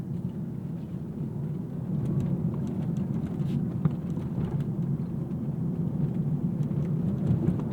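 A 2021 Tesla Model S Plaid accelerates hard, a steady low rumble of road and wind noise building inside the cabin with no talking.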